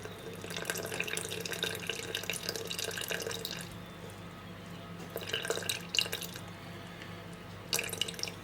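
Water pours and trickles from a tap into a sourdough starter being fed, a steady running splash with short pauses and brief drips, close by and alone.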